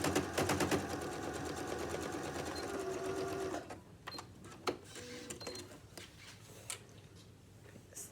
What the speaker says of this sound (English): I'm going to sew straight down here.